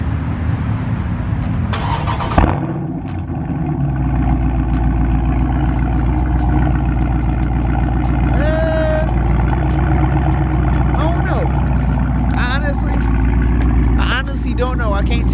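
A Dodge Charger Scat Pack with 5-inch exhaust tips starts up and settles into a loud, deep, steady idle close by, with people talking over the rumble.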